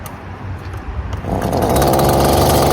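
A weed eater is started with a pull cord. After a rough sputtering stretch it catches, and the small two-stroke engine roars up to a loud, steady high-pitched run close by.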